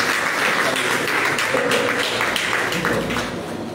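A church congregation applauds during a prophetic worship service, a steady, dense wash of many hands clapping together that fades slightly at the end, with faint voices mixed in.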